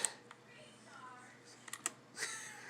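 A few quiet, scattered key clicks from a Razer Ornata V2 gaming keyboard, sparse taps spread over a couple of seconds against a near-silent room.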